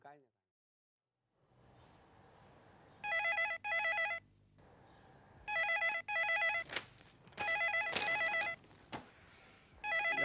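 A telephone bell rings indoors in several repeated bursts of paired rings, loud and clear, separated by short gaps of quieter room sound.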